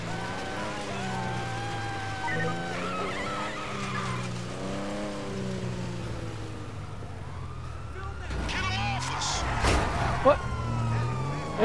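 Police sirens wailing in a GTA 5 chase, rising and falling near and loud over car engine noise and tire skids, with voices talking at times.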